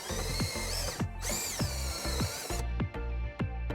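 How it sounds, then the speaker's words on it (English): A 1/2 inch step drill bit bores a hole through a Sprinter van's metal panel, with a steady high power-drill whine that stops and restarts, followed by short sharp bursts as the trigger is pulsed. "starting to drill the hole with a 1/2 inch stepped drill bit"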